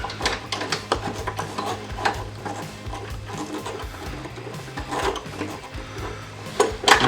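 A GX470's Optima battery terminal is tightened with a hand tool, producing a run of close, quick ratcheting clicks and metallic rubbing scrapes in irregular bursts, with no talking.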